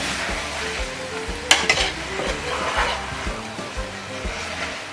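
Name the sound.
ground meat frying and being mashed with a spoon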